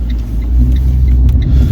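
Fiat 500 pulling out and driving off, heard from inside as a loud, steady low engine rumble with road noise throughout the short stretch.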